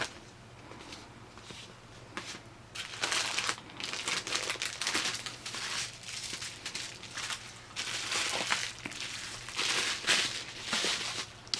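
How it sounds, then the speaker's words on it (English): Items wrapped in bubble wrap being unwrapped from a package: repeated crinkly plastic rustling and crackling bursts, close and moderately loud, coming in irregular waves over a low steady hum, with no talk. "smaller things up on top, wrapped in bubble wrap. And I'll have all these unwrapped shortly."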